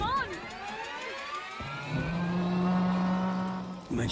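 A car engine catches and climbs into a sustained rev during a frantic escape, loud and close, with sweeping rising tones above a steady low drone, alone without talk.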